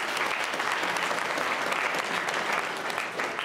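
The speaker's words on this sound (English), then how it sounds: "Let's give them a round of applause." A steady round of applause from a spelling bee audience, dense continuous clapping at moderate volume with no speech over it.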